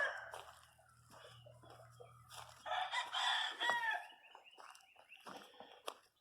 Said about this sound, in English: A couple of the laying hens out waiting for a coop in the smaller pen.